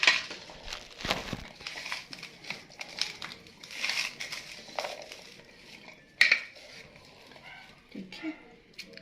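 Chana chaat, a chickpea snack, being mixed in a bowl with a spoon: steady scraping, clattering and clinking against the bowl for several seconds, with a sharp knock near the end and a voice talking throughout.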